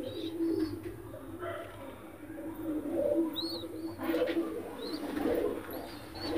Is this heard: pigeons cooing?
yes